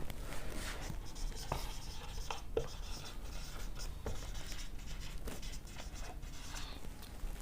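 Chalk or marker scratching steadily on a board during a biology lecture, a continuous rhythmic scraping with small taps, over a quiet room background.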